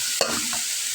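A single quick scrape of a spoon stirs chopped greens with chili and spices in a hot pan, set against a soft, steady sizzle lasting about a second.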